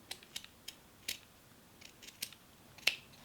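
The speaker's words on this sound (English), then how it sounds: "cut off the excess using a pair of scissors" Scissors snipping off excess macrame cord on a handmade braided bracelet, a few small crisp clicks spaced through a quiet room, with one sharper snip near the end.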